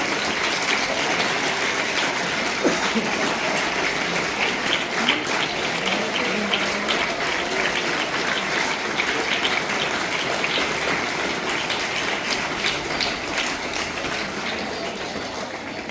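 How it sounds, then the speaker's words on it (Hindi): An audience of teachers, parents and society members at a school Gulposhi flower-garlanding ceremony gives sustained, loud applause, a steady broad roar of clapping that continues throughout and fades slightly at the end. "फूलों का तोहफा देकर के आप तमाम को जोरदार तालियां"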